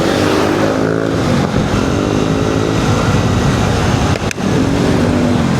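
A Vespa scooter rides along a road on a Father's Day group ride with Vespa Club Cainta, its engine droning steadily and loud up close, with wind rush throughout and a brief dip near the end.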